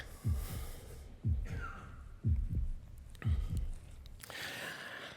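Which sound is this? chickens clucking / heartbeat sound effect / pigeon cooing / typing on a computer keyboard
heartbeat sound effect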